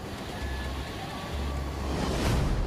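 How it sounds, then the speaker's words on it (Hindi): Fast-flowing river floodwater rushing steadily as a broad, continuous roar that swells slightly louder toward the end, with no voices. "नदी के पानी की रफ्तार देखिए"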